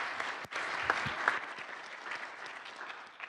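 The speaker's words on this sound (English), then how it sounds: "Give her a round of applause." A small gathering at a networking meetup gives a round of applause, a moderately dense, fairly quiet patter of hands that continues evenly for a few seconds.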